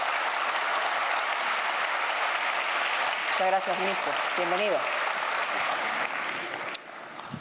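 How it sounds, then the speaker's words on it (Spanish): Steady audience applause welcoming Peru's economy minister, Alonso Segura, at a conference on growth and inclusion in Latin America. It fills the whole stretch at an even level, with a voice speaking briefly over it before it starts to thin. "con un gran aplauso."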